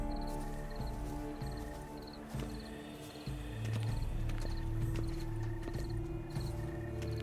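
Horse hooves walk slowly in The Witcher 3: Blood and Wine, giving soft, regular clip-clop steps under a steady game ambience and low musical drone.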